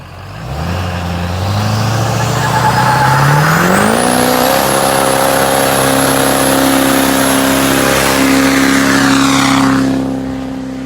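Turbocharged Duramax LB7 diesel truck with a second-generation drop-in turbo revving up hard, rising into a loud, sustained high-pitched turbo whistle over the deep engine roar, then falling off at the end; no talk.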